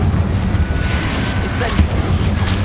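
Confringo spell cast in Hogwarts Legacy, a booming fiery blast with crackling bursts that rise over steady game rumble, with a voice calling out in the background.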